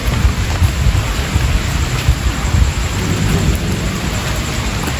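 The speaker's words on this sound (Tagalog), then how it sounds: "Grabe yung ulan, ang lakas." Heavy rain pouring down in a cemetery with thunder rumbling, a dense continuous hiss of downpour over deep low rolls, loud and steady with no voices.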